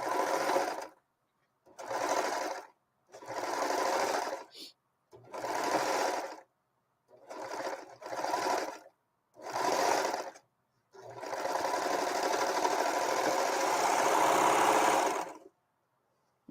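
A serger sewing machine stitches fabric with elastic in a series of short, whirring bursts, followed by one longer continuous run. The sound is close and clear, with no talking.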